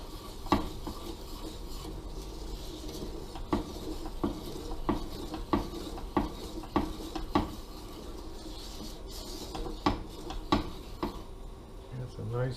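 A spoon stirs a thick, silky sauce in a pot, giving steady rhythmic scraping strokes about once a second, close and fairly quiet, with a faint sizzle underneath.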